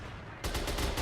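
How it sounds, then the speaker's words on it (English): Bursts of gunfire from a tactical shooter video game during a competitive esports qualifier match, starting abruptly and continuing as dense rapid shots through the rest of the moment. "A lot of visuals and a lot of gunfire as well."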